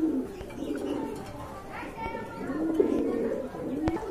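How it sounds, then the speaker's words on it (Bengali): A pair of pigeons for sale coo in low, repeated rolling calls close by, while people talk and children play in the background. "এই যে দেখেন খুবই সুন্দর চমৎকার এক জোড়া কবুতর"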